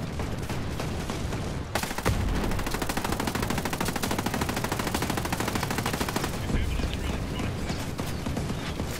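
Automated gun turret in Ghost Recon Breakpoint firing sustained rapid bursts, a dense, loud rattle of gunfire running almost without pause from about two seconds onward.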